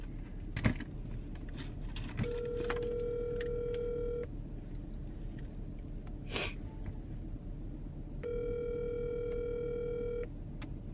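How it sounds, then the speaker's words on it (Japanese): A telephone ringback tone sounds twice while an outgoing call is placed, each long steady beep lasting about two seconds with a gap between them, heard over a soft background hum and a few small handling noises. "旦那にちょっと電話して、なんか必要なものあるか聞こうね"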